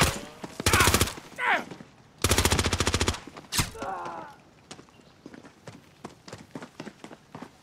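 Automatic gunfire in a shooter video game rattles out in two loud, dense bursts, each about a second long, followed by a single sharp shot and then scattered lighter clicks and thuds.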